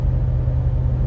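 A 2025 Ford F-250 Tremor with the 7.3L gas engine cruises at 70 mph in 10th gear on 4.30 gears, giving a steady, close, low cabin rumble with no talk over it.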